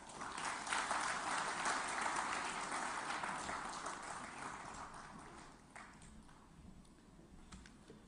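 Applause from a hall audience greeting a speaker at a trade event launch, a fairly faint, distant spread of clapping that swells early, then slowly thins out and fades, with a few scattered claps at the end.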